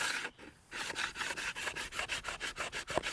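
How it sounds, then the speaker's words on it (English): Block sander rubbed along the full length of a bamboo recurve bow limb, a steady run of rhythmic rasping strokes up close after a brief pause, with no talk. "we're going to try and almost flatten this limb with your block sander, the full length of it"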